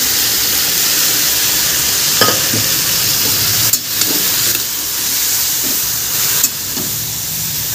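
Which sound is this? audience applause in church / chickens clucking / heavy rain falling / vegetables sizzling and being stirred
vegetables sizzling and being stirred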